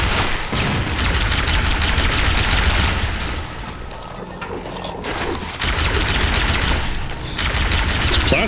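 Plasma rifle fire from the Halo level The Library, a dense, sustained stream of rapid energy shots that dips briefly mid-way before resuming at full intensity, loud and close with battle noise layered underneath.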